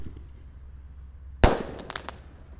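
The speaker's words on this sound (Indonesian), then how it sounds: "Lanjut yang kita nyalakan ada Bima Sakti 3." A Bima Sakti 3 firework set off during Ramadan festivities goes off with one sharp loud burst after quiet, then a few quick crackling pops trail behind it.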